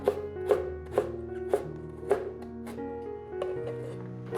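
A knife chops peeled carrots into thin strips on a cutting board, with crisp, evenly spaced taps close by, roughly two per second, slowing slightly toward the end.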